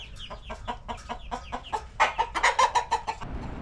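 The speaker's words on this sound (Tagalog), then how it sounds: "May mga manok din." Chickens on a date farm cluck in a quick series of short, close calls, growing slightly louder and busier toward the end.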